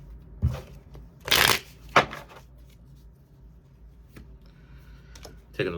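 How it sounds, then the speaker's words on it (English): Tarot cards being shuffled by hand during a reading, a few quick riffling bursts close by, the loudest at the start and then softer scattered card sounds. "I was taking a look at how I was shuffling"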